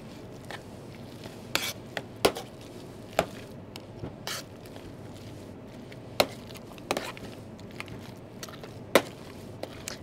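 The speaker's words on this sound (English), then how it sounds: "So you can use your masher again." Corned beef being worked into mashed potato with a handheld masher, heard as soft, irregular thuds and scrapes against a bowl. The strokes are quiet and close, spaced unevenly, with no talking.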